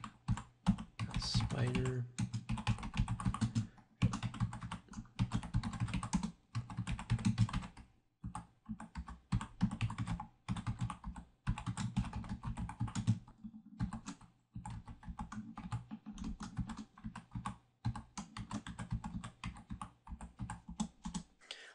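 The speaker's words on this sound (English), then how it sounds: "let me go ahead and type this in" Someone types steadily on a computer keyboard, with rapid close clicking keystrokes in bursts and brief pauses throughout, while a voice speaks quietly at one point.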